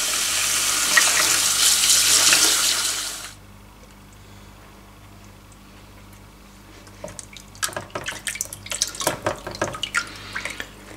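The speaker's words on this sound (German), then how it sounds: "So, und jetzt muss warm Wasser über die Därme," Warm tap water runs steadily onto natural sausage casings for about three seconds, a loud broadband rush that then cuts off, followed by quieter irregular splashes and drips of wet handling.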